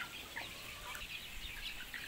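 Farmyard chickens cluck in scattered, faint bursts, heard from a short distance in a quiet outdoor setting under hot sun, with no voices.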